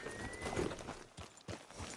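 Horse hooves clip-clopping during a ride in the video game Red Dead Redemption 2, a few distinct thuds spaced apart over a steady bed of ambient outdoor noise.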